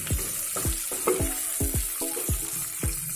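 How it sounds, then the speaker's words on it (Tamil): Green chillies sautéing in a pan for ghee rice: a steady sizzle with repeated scraping stirs of a spatula, close and fairly loud, about six strokes in three seconds, no voices. "நல்லா வதக்கி விட்டுக்கோங்க."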